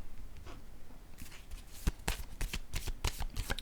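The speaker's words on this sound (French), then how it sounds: "Je vais déposer une carte sur l'héritage." Tarot-style cards handled and laid down on a table during a reading, crisp papery flicks and slaps in a quick irregular run, close and clear over faint room tone with no speech.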